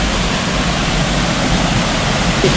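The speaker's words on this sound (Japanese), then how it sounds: "ここが不動滝ね。" Fudo waterfall at a mountain shrine pours in a steady, loud, broadband roar of falling water that stays constant throughout, with no voices over it.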